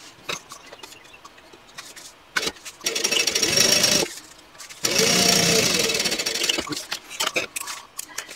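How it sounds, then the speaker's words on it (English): Sewing machine top stitching a handbag panel at a 1/8 inch seam allowance, heard as two sustained bursts of mechanical running separated by a pause and surrounded by scattered handling clicks and knocks. "I want to top stitch this using a 1/8 inch seam allowance."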